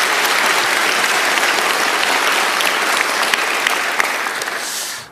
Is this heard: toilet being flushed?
no